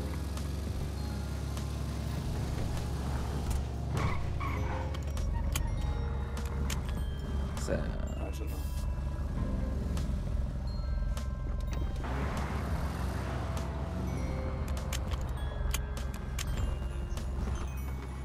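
Car driving in a Norwegian roleplay video game, a steady engine drone with faint clicks and beeps mixed in, continuous at a moderate level.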